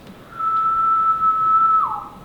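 Male periodical cicada (Magicicada) singing its musical song: one sustained, steady pure tone lasting over a second that slurs downward in pitch at the end, clear and alone.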